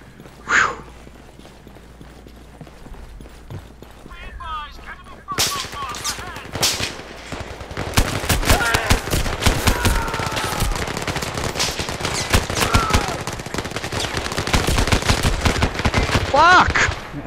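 Rapid gunfire bursts crackle through a cooperative match of the VR shooter Zero Caliber, dense automatic fire repeating loudly with short gaps, faint voices underneath.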